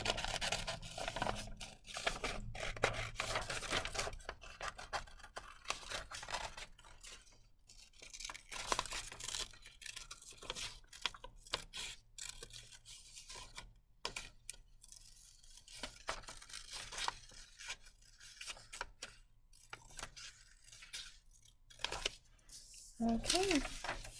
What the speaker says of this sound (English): I'm gonna go ahead and cut 2 bears out.